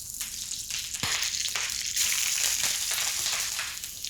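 Endives go into a hot pan and crackle with a loud, dense, steady sizzle, close up and with no talking.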